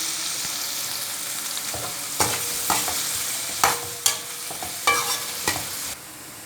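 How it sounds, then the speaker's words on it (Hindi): Onions sizzle and crackle steadily in hot oil, broken by occasional scraping clinks of a spoon stirring the pan, close and continuous. "तीन चम्मच ऑयल के डालेंगे और साथ ही प्याज डाल देते हैं और प्याज को हल्का सा ब्राउन होने देते हैं।"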